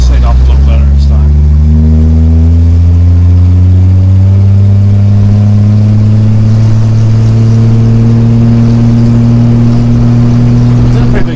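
A 1963 Ford Falcon Futura hardtop, driven for the first time in 18 years, drones loudly with a steady low engine note that rises slowly in pitch as it pulls in a high gear.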